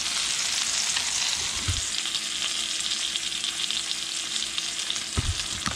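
Brook trout frying in a pan to get the skin crispy, a dense, steady hiss of hot fat sizzling close up, loud and unbroken, with a couple of faint low knocks and no voices.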